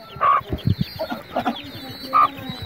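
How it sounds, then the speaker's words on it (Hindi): A hen clucking nearby, several short throaty clucks in uneven bursts with a couple of sharper higher calls. "ये मुर्गी भी यहाँ पहुँच गई है"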